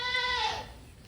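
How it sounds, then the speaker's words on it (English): A single goat bleats in a barn, a short wavering cry close by that fades out quickly, alone without talk. "They are goats"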